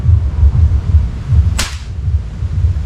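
An air rifle fires a single 18-grain pellet at a target 20 meters away. One sharp, snapping crack stands out over a low, rhythmic background rumble, with no voices.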